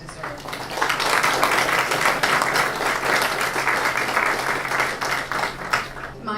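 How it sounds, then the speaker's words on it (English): Sustained audience applause fills a launch party room, a dense steady wash of many hands clapping at close range for several seconds, tapering slightly near the end. "I hope you'll all join me in giving them a huge round of applause that they deserve"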